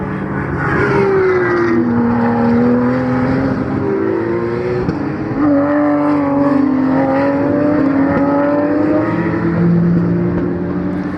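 Race cars, including a BMW and a Porsche Cayman GT4, circle the Nogaro circuit with a loud, continuous engine drone whose pitch climbs and falls as gears change, several cars overlapping.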